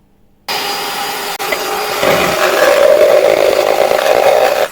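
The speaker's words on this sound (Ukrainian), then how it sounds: "додаємо обов'язково в яйця і збиваємо добре яйця" Eggs with a pinch of salt being beaten, heard as a loud, steady mechanical whirring drone that starts abruptly, briefly cuts out, then continues stronger and slightly higher until it stops.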